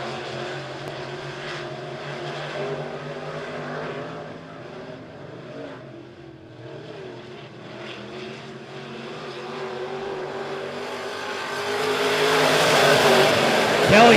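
Race cars lap Monett Motor Speedway in a heat race, engines droning steadily before roaring louder and closer as the pack sweeps past near the end.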